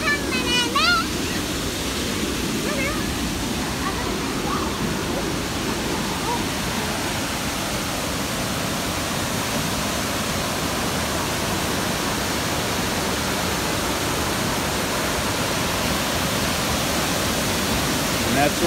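Nauyaca Waterfalls in Costa Rica roar as a steady, loud, broadband rush of falling water, continuous and unbroken throughout, with no other sounds standing out.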